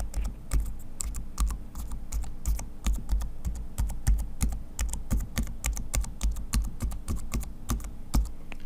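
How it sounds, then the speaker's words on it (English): Fingers type on a Microsoft Surface keyboard, a close, steady stream of crisp, light key clicks at a brisk, even pace with no talking. "So it's the Microsoft Surface keyboard."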